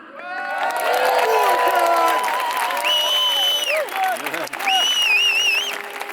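Crowd at a political rally in London applauding and cheering loudly for several seconds, with whoops and whistles rising over the clapping before it tapers off.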